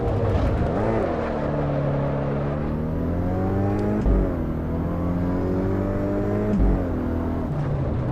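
A hot hatch driven in the racing game Assetto Corsa Evo, its engine droning loudly with rising pitch under acceleration and two brief dips where gears change, heard alone without talk.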